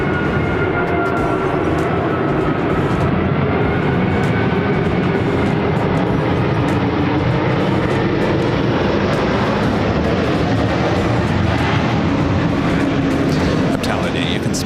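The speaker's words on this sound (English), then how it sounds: "I hear an A380. You hear that A380? Emirates." Emirates Airbus A380 jet passing roughly a mile away, a continuous loud engine roar that fills the whole stretch while someone talks over it.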